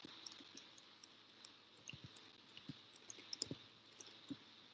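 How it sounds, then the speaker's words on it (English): Quiet, irregular clicks of typing on a computer keyboard, scattered light taps with short bursts of keystrokes over a low background hum, no voices. "I'm typing this in right now"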